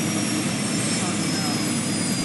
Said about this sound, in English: The chopper's damaged.